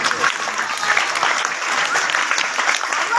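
Audience applause at an annual school prize-giving ceremony, a steady dense patter of many hands clapping throughout, loud and fairly close, with no talk over it.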